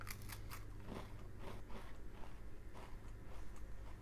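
Close, quiet crunching and chewing of a buttery French sablé cookie, with a few crisp bites followed by softer repeated chews.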